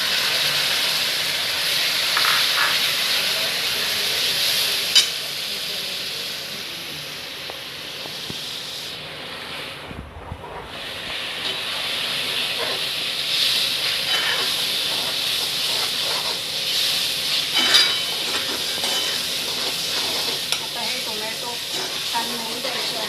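Tomatoes tipped into a pan of browned spices with cloves and green cardamom for restaurant-style chole, giving a steady loud hiss and sizzle that runs throughout with a brief dip partway.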